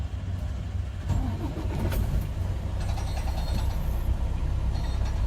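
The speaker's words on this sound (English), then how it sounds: "I want to turn the engine" A Prime Inc. truck engine starting during an in-cab pre-trip inspection, a cranking surge about one second in settling into a steady, loud diesel idle rumble heard close from inside the cab.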